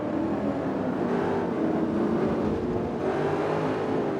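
A Dodge Viper SRT10 engine in the racing game Forza Motorsport 3 drones steadily at a constant, fairly loud level, a continuous motor hum with no talking.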